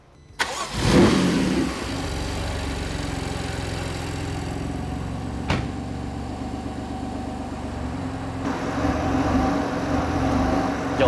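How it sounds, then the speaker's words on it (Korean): A BMW M4 engine cranks and catches with a loud burst, then settles into a steady idle that swells slightly near the end. "이제 시동 걸게요."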